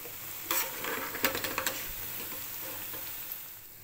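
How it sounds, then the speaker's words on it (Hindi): Chana dal tikkis sizzle in hot oil with a steady hiss, and a few brief scrapes and clinks of a stirring spoon come near the start. "ये देखिए, इधर हमारे ये दाल के टिक्की भी फ्राई हो गए हैं"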